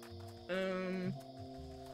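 A sheep in the video game Wytchwood gives one clear, loud bleat lasting about half a second over a quiet, steady background of game music.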